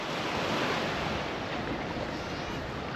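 Waves wash onto a rocky beach in the Algarve, Portugal, in a continuous broadband roar of surf with some wind noise and no voices.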